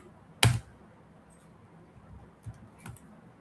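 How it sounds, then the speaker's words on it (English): A computer keyboard gives one sharp, loud keystroke, then a couple of fainter taps follow after a pause, all close and otherwise quiet. "I can actually just operate this off of the keyboard"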